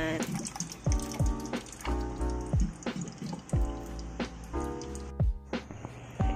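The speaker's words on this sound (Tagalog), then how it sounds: "Lalagyan ko rin siya ng tubig guys kasi iinumin ko siya" Water is poured into a tumbler holding ice, with splashing, trickling flow and repeated clinks and knocks of ice cubes shifting against the container, fairly close and moderately quiet, with no talking.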